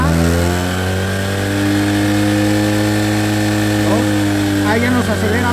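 A motorcycle engine runs loud and close at a steady idle while its carburetor is tuned, the pitch rising slightly near the end as the throttle opens; a voice speaks over it.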